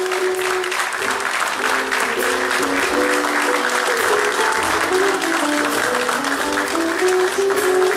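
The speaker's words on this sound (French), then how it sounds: "après ce tonnerre d'applaudissements" At an election event, a crowd applauds a colonel with loud, sustained clapping that stays full and steady throughout, a thick wash of hands with faint voices mixed underneath.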